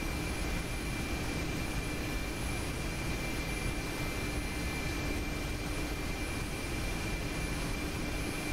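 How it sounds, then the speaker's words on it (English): Mi-8 helicopter in DCS, main rotor and turbine engines producing a loud, steady broadband roar and whine from inside the cockpit, constant throughout with no talk. "Get some main rotor RPM back while we're at it."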